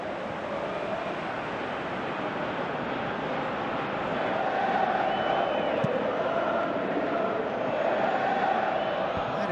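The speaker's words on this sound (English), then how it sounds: "you can hear how the crowd are reacting to this too" Steady roar of a large stadium crowd in the Pro Evolution Soccer 2018 video game, during a Europa League match, swelling slightly midway, with a continuous dense murmur and no clear individual voices.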